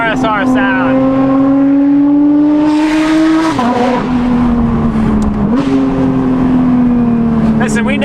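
Porsche GT3 RS fitted with a Valvetronic Designs RSR race exhaust, its flat engine howling loud and close with a steady high-pitched tone, dipping and climbing through a couple of gear changes.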